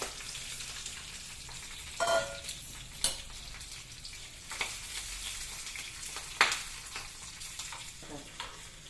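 Chana dal with green and dry red chillies sizzles and crackles in hot oil, a steady close frying hiss broken by a few sharp pops and stirring clatters, no talking.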